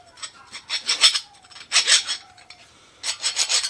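Flat file rasping rust off the inside edge of a Jeep JK axle yoke during a U-joint replacement. Three close bursts of rapid, scratchy strokes are separated by short pauses.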